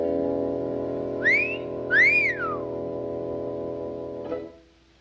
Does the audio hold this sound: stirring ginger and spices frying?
no